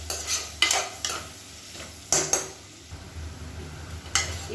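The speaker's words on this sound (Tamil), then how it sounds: "இப்போ வெங்காயம் ஓரளவுக்கு நல்லா வதங்கிடுச்சு" Onions sauté in a pan for a coconut-milk mushroom biryani, with a soft continuous sizzle under repeated close scraping strokes of a spoon stirring against the metal, a few sharper knocks among them.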